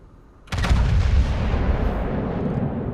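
Heavy naval guns fire in a World of Warships battle, one loud booming salvo that hits suddenly and then rolls on in a long, dense rumble with no voices.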